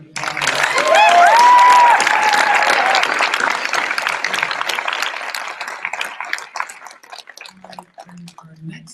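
Audience applause at the opening ceremony of an immigrant youth empowerment conference at UCLA, a loud, dense burst of clapping that peaks early and thins out, with cheering and voices mixed in.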